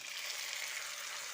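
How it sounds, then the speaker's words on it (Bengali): Four chopped tomatoes fry with lightly browned onions over a medium flame for a restaurant-style chicken handi. A brief, even sizzle hisses up close without a break. "মিডিয়াম ফ্লেমে 3 থেকে 4 মিনিট ভেজে নিচ্ছি।"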